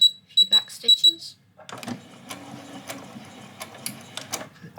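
A sewing machine runs a straight stitch with a few back stitches, a short mechanical whir and clatter after a brief pause, while someone talks near the start.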